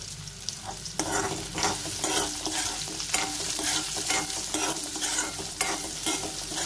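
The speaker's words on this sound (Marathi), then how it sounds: "आता याच्यावर मी अगदी थोडंसं मीठ घालते, म्हणजे काकडीला पण मीठ लागेल आणि काकडी लवकर परतली जाईल" Grated or chopped cucumber sautéing with a pinch of salt in a pan for sabudana khichdi, with steady close stirring scrapes and a continuous sizzle throughout.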